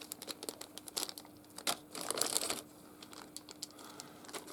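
Plastic packaging being crinkled and torn open on a Star Wars Legion core set of miniatures, heard as close, irregular crackles and rustles with one louder tearing burst.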